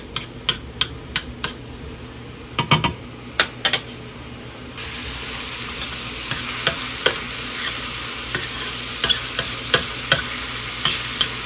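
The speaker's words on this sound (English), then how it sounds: "I'm going to give the lentils a stir" Lentils being stirred in a pot with garlic and onions, giving a run of close, sharp spoon scrapes and clacks against the pot over a steady sizzle that grows louder partway through.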